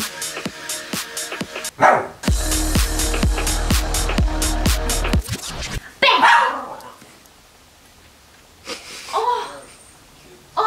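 A dog lets out sharp yelps as if hurt, amid a rapid clattering run of bursts, followed by quieter snorts and breathy sounds.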